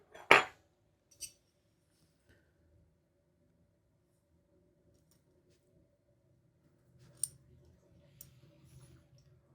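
Parts of an anodized Kubey Nova folding knife click together during reassembly: a sharp snap, a lighter click a second later, then quiet before small metallic clicks and light handling noises near the end.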